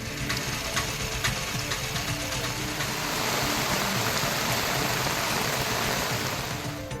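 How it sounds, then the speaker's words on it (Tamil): Rain pours steadily onto streets in Kumari district, a dense, even hiss that swells slightly midway, with no voices. "குமரி மாவட்டத்தின் பல்வேறு இடங்களில் பரவலாக மழை பெய்தது"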